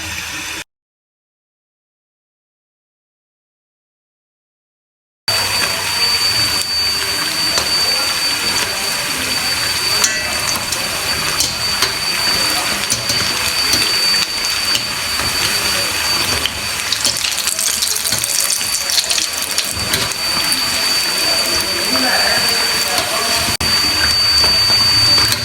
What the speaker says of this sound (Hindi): तो चलिए अब इनको फ्राई करने का टाइम हो गया, फ्राई करते हैं।